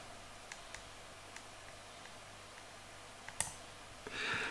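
Computer mouse and keyboard clicks while modelling in Blender, a handful of faint, sparse, isolated ticks spaced irregularly over a quiet background, with a slightly louder click cluster near the end and no talk.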